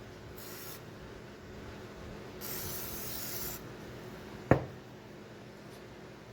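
Spray cleaner misted over an Abu Garcia 6000 baitcasting reel in two short hissing bursts, the first brief and the second longer, followed by a sharp knock, all at close range with no talk.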